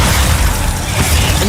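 The Glacius ice spell in Hogwarts Legacy gives a brief, dense icy burst with a crackling, shattering texture that stays loud and steady for about a second and a half.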